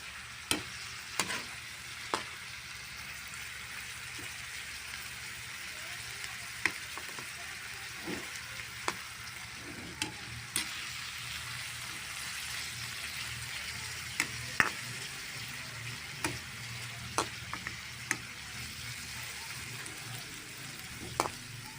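Scrambled eggs with bitter gourd sizzle steadily in a pan, with repeated sharp scrapes and clicks of stirring scattered throughout, no talking.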